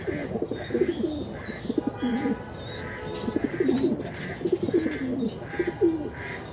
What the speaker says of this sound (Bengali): এগুলো আমার অনেক পছন্দের একজোড়া কবুতর।